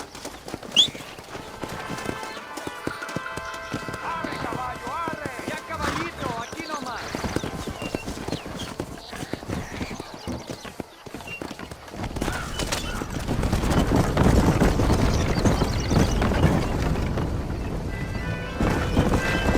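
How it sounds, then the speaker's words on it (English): Horse hooves clip-clop in the Red Dead Redemption video game during a ride with a wagon, a steady trotting rhythm that turns louder and more dense in the later part, mixed with a whinny and game music, with voices speaking over it. "You can take your horse or ride on the wagon."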